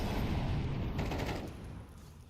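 Dense, continuous gunfire from a Counter-Strike esports match between Betera and System5, a steady clatter of overlapping shots that stays loud throughout and eases slightly toward the end, with no voices over it.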